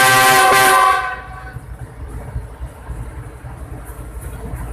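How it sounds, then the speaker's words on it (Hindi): A train on a railway line sounds a loud horn for about a second, then its low wheel rumble and rolling noise continue steadily beneath. "अगला ट्रेन ने रेड सिग्नल क्रॉस कर दिया आई थिंक।"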